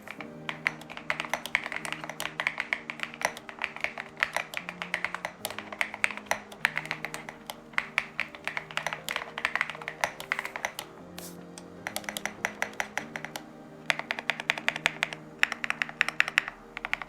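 KiiBOOM Phantom81 Lite mechanical keyboard being typed on, steady bursts of crisp clacky keystrokes with rhythmic pauses, close and alone throughout.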